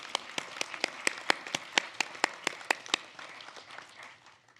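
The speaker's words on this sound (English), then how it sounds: "I just need y'all to clap" Light applause at a senior celebration, with a few sharp, distinct hand claps standing out in a regular rhythm over softer scattered clapping that fades away.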